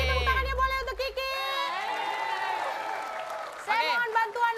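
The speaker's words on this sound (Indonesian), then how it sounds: "sekali lagi tepuk tangannya boleh untuk Kiki" A studio audience applauds and cheers for Kiki on an Indonesian show: a host's voice leads into a few seconds of steady clapping and crowd noise, which fades as talking resumes.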